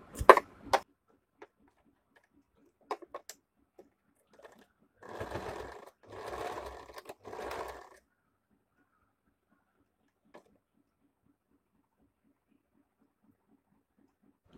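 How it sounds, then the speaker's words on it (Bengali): A sewing machine stitches a square-neck A-line nighty in three short whirring bursts after scattered clicks and handling taps, then falls quiet apart from a faint tick. "তো ঠিক এই জায়গাতে আমি একটা সেলাই দিয়ে দেব।"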